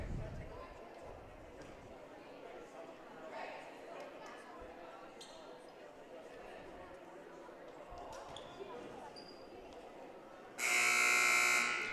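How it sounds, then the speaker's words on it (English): A loud, sustained electronic buzzer blares at the end of a girls' high school basketball game, following steady crowd murmur and a commentator talking throughout. "There's the buzzer as both teams will work back out onto the court."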